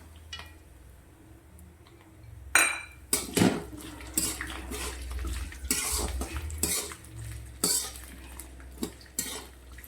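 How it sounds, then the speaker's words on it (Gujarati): Green peas go into a pan of pulao and are stirred, with a spoon scraping and clinking against the metal in a string of irregular sharp knocks. The knocks are close and fairly loud over quiet background noise. "હવે આપણે તેમાં વટાણા નાખી દઈશું"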